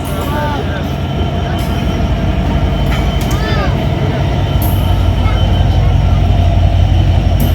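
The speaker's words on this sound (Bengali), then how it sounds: "যমুনা সেতু হয়ে চলা রাজধানী ঢাকা অভিমুখী আমার প্রিয় চিত্রা এক্সপ্রেস যমুনা সেতু পূর্বে প্রবেশ করলো" The Chitra Express, a Khulna–Dhaka passenger train, rolls across the Jamuna bridge with a loud, continuous rumble of wheels and carriages. Faint metallic squeals rise now and then, and the noise swells steadily.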